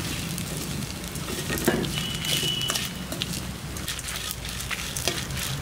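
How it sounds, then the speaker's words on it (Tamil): Grated coconut stirred into sautéed onion, garlic and chili in a hot pan, with a steady sizzle and soft scraping of the spoon close by, and no talking. "தேங்காய் துருவலை போட்டு ஒரு நிமிஷம் நல்லா கலந்து விட்டுட்டு"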